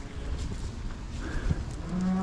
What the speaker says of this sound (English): See, this shed is absolutely full up with cows.